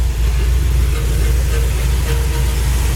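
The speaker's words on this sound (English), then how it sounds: "Engine sounds good." A 1972 Chevelle SS with a 350 V8, headers, aftermarket intake and carburetor idles nearby, a loud, steady, deep rumbling lope with no talking.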